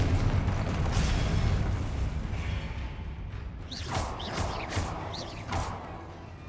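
A Confringo fire spell blast in Hogwarts Legacy erupts as a loud, rumbling boom that slowly fades, followed by lighter whooshing spell effects.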